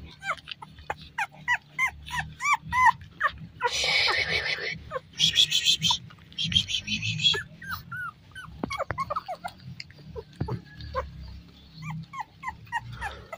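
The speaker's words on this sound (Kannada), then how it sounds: "ಅವೆರಡು ಪಗ್ಗು ಬೀಗಲು. ಇವೆಲ್ಲ ನನ್ನ ಕಾಲ ಹತ್ರ ಬಂದುಬಿಟ್ಟಿದೆ." Pug and beagle puppies whimper, yip and yelp close by in quick, repeated bursts, with a couple of louder scuffling noise patches between the cries.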